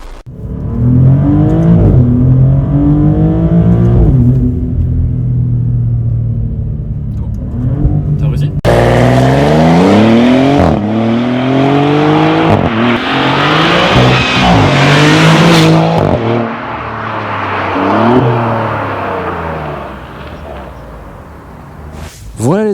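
Maserati GranTurismo engine revs and pulls hard on the road, its pitch climbing and dropping through repeated gear changes. The engine is loud and close throughout, with a harsher, busier stretch in the second half.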